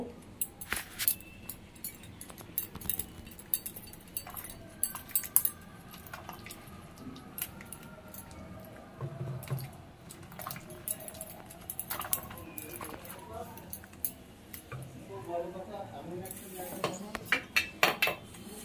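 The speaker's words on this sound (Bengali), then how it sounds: "একটু ঘুটে দেব।" A spoon scrapes and clinks against a cooking pot while cooked dal with bottle gourd is stirred and mashed, soft irregular knocks and scrapes up close over quiet kitchen background.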